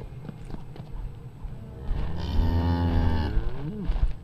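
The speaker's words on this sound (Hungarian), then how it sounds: "Ez tehén?" A cow in the horror zoo game Zoonomaly lets out one long, drawn-out low moo that swells and wavers, set over a steady murky background hum.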